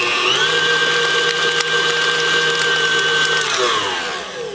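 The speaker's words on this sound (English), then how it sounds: "you want to put 4 sticks of butter into your mixer and give it a little whiz" An electric stand mixer whirs steadily as it creams four sticks of soft room-temperature butter, loud and close, holding an even pitch before winding down at the end.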